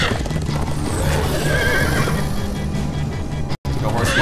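A horse neighs and whinnies with clip-clopping hooves in the video game Minecraft Story Mode, loud and close throughout, with game voices talking over it and a brief cut near the end.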